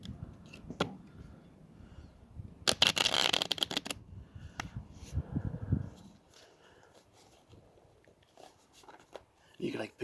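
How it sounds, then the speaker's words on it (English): A deck of tarot cards is shuffled in short riffling bursts, soft and close, with quiet pauses and handling noises between them. "Get our tarot cards all shuffled up here."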